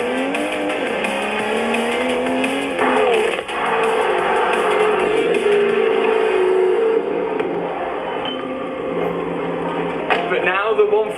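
Modified BMW M140i with a hybrid turbo making over 533 bhp, its engine note climbing in pitch through the gears, continuous and fairly loud, with a brief shift break and rising revs again near the end.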